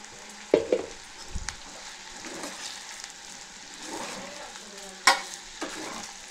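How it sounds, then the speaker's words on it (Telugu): Okra fries in a pan with chili powder stirred in, for a Telangana-style okra tamarind stew. A steady close sizzle runs throughout, with a few sharp utensil clinks near the start and again later. No one speaks. "ఇట్లా మంచిగా ఫ్రై కావాలి"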